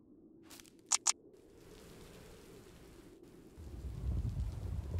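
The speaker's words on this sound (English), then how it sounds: "That localized rain is awesome." A localized rain shower falls in the strategy game Kainga: Seeds of Civilization as a soft, steady hiss. It swells louder toward the end, and two brief clicks sound near the start.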